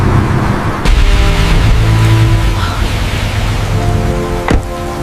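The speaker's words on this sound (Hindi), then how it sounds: "बारिश तेज है" Heavy rain falling on an empty road, a steady loud hiss of drops with a couple of sharp knocks, no talking.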